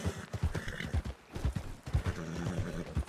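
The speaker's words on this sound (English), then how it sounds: "Stop that horse!" Horse hooves clip-clop and a horse neighs in a Wild West role-play video game, the rhythmic hoofbeats close and fairly loud across a few seconds.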